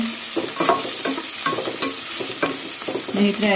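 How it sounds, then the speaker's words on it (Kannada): Tempering for dal tadka fries in a pan, a close sizzle punctuated by repeated quick scraping strokes of a spoon stirring at an even, brisk rhythm. "ಈ ಥರ ಫ್ರೈ ಮಾಡ್ಕೊಬೇಕು ನೋಡಿ ಸ್ನೇಹಿತರೆ"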